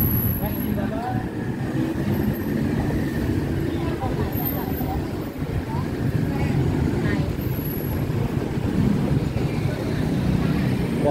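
Continuous street traffic roar on Sukhumvit Road in Bangkok, with taxis and motorbike taxis passing, heard alongside a steady mix of engine rumble and city hubbub, with voices talking underneath throughout.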